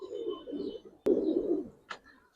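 Giribaz pigeons, a pair of hens, coo softly in a low murmuring run, broken by a sharp click and a brief higher flutter near the end; no talk over them.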